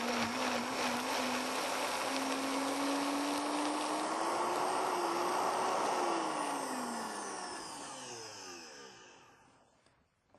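An electric blender whirring as it purees pizza sauce with sun-dried tomatoes, a loud steady motor drone with a pitch that rises and wavers before the machine winds down near the end.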